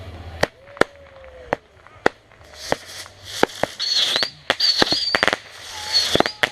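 Backyard fireworks and firecrackers go off in sharp, loud separate bangs with crackling bursts and whistling fizzes between them, spaced irregularly over several seconds.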